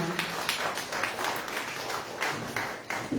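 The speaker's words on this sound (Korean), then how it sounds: "큰 박수로 맞아주시기 바랍니다" An audience in a convention hall at a political lecture claps steadily, a dense patter of many hands heard at a moderate distance.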